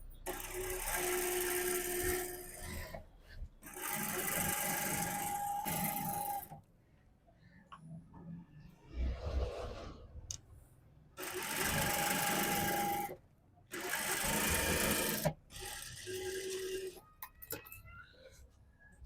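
A sewing machine stitches the inner seam of a suit's front in four or five loud, sustained bursts, with quiet pauses and faint handling noise between runs.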